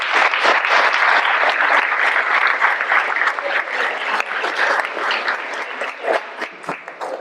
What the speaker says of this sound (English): so if we could all give her a round of applause.